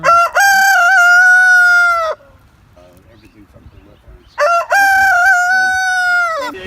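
A farm rooster crows twice, loud and close, each call a long strained cock-a-doodle-doo separated by a short pause with faint background sounds and a brief spoken remark.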